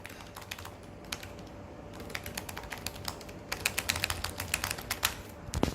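Keys on a MacBook Pro Touch Bar laptop keyboard being typed on, a steady run of close, crisp clicks that grows busier and louder toward the end, with no voices.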